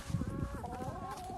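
Hens and a rooster cluck and murmur inside a winter chicken coop built for cold and snow, with a burst of close, busy clucking at the start that settles into softer, steadier calls.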